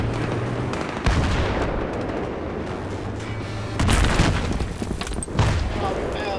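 Rocket explosion in Battlefield 3, heard as loud booming blasts amid scattered gunfire, with a heavy burst near the middle and another shortly after, while a player talks over the action.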